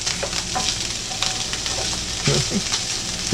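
A tiny spatula stirs food sizzling in a pan while Salisbury steaks with mushroom and onion gravy are being made, a steady frying hiss with a few scraping strokes near the end.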